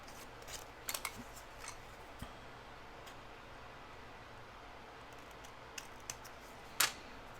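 Scissors cutting paper for a handmade cascading mini album, a few quiet close snips and clicks spread over a hushed room, with one sharper snip near the end.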